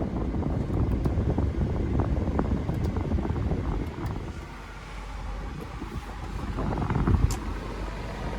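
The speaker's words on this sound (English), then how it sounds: "Let me turn down these fans." Climate control fans blowing steadily inside a 2018 Nissan Armada SL, a broad continuous whoosh that dips briefly as the fan speed drops, then swells again, with small clicks and rustles over it and no talking.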